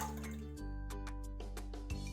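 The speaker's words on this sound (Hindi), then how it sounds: "पहले इसमें मैं डालूंगी थोड़ा सा पानी।" A small amount of water poured into a pan to make dry fruit milk: quiet, brief splashes and drips over a low steady hum, with no talk.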